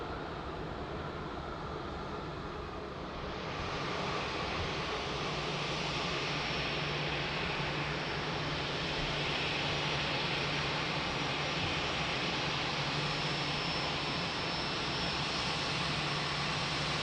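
An airplane takes off at Lisbon Airport, a loud, broad jet-engine roar that builds after a few seconds and holds steady and powerful, close to the listener.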